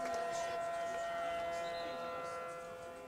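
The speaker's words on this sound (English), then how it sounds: "Tornado siren still going" A tornado siren wails steadily over a noisy crowd and an announcer's voice at a high school state final soccer match, its tone fading slightly toward the end.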